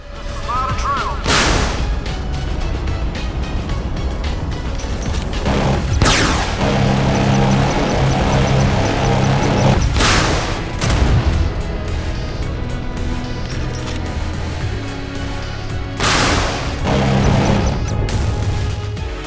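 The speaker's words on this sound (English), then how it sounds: "it took 4 rounds of missile and 1 magazine of the machine gun to destroy it" Missile launches and machine gun bursts from an ATD-X jet in the naval combat game Modern Warships, attacking a Pak-FA bomber: sharp blasts recur every few seconds over a constant engine drone.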